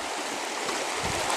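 Creek water rushes through a long sluice box fitted with riffles, giving a steady, close, hissing wash with a slight gurgle and no talk.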